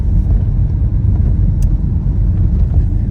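Car driving along a road through the village of Melnyky near Kholodnyi Yar, Ukraine, a loud steady low engine and road rumble heard from inside the vehicle, without talk.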